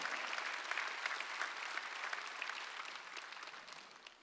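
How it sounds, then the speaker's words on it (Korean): Church congregation applauding during a Sunday worship service, dense sustained clapping from many hands that gradually tapers off, heard at a moderate distance. "박수로 하나님께 영광을 돌려야 될 거야"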